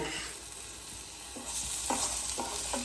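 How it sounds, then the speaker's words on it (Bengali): Bitter gourd frying in a pan, a steady oily sizzle with soft stirring scrapes breaking through every half second or so, close and moderately loud. "এবার আমি উচ্ছেগুলো একটু ভেজে নেব"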